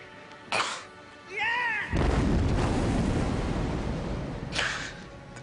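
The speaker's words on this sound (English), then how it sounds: "There was a huge explosion." A yacht blows up in a huge explosion in a TV drama: a sudden deep, roaring blast that rumbles on loud and sustained for several seconds, following shorter hisses and a rising whine.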